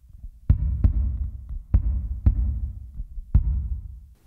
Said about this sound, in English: add a little bit of reverb to, you know, simulate how it might sound in the room